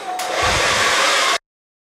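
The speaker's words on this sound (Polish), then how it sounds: "I teraz sobie je po prostu wysuszę. Ja mam suszarkę taką Philipsa" A Philips hair dryer blows steadily while drying hair, a loud close whooshing hum for over a second before it stops abruptly.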